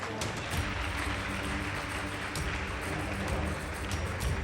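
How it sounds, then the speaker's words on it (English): A crowd at a school debate competition gives the winning team a round of applause, a dense broadband roar of clapping with low rumbling room noise and a voice faintly underneath. "Please give them a round of applause."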